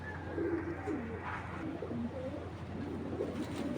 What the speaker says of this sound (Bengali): এখানে দেখাচ্ছে আরেক জোড়া খাকি কবুতর, খুব সুন্দর হাই প্লেয়ার খাকি কবুতর।